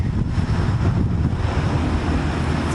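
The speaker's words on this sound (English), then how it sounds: "It's very windy today." Steady, gusty wind buffets the microphone in a backyard pumpkin patch, a continuous low roar with no breaks and no voices.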